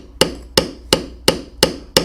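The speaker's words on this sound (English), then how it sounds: "Notice that I'll start out lightly and then tap a little harder. And I'm beveling away from" Six evenly spaced, sharp wooden-sounding taps of a mallet striking a leather beveling tool while carving a bear head in leather, each crack close and distinct with a short decay, alone without talk.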